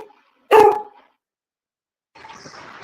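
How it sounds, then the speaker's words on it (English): Single dog bark from an AI companion app, a short sharp yelp followed after a pause by a softer, muffled second sound. "So when you click on the dog, you see it is making."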